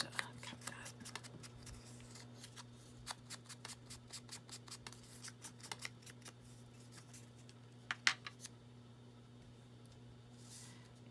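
Scissors cut through paper for a journal page, a series of quick close snips and clicks repeating in short bursts over a steady low electrical hum, with a louder pair of cuts near the end.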